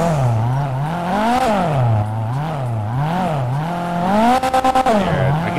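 Car tires squeal with the engine revving while drifting in GTA 5, a modded millionaire's car. The wavering, repeated screech rises and falls steadily, loud and close.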